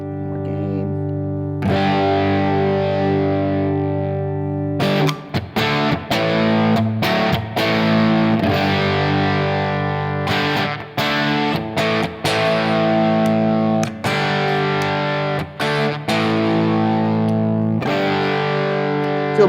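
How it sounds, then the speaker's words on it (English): Electric guitar played through a small pedalboard with distortion set to higher gain, thick sustained chords and riffs with choppy rhythmic stops, loud and close throughout. "more gain."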